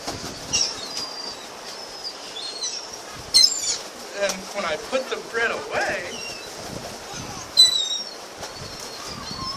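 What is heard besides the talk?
seagulls flocking and flapping wings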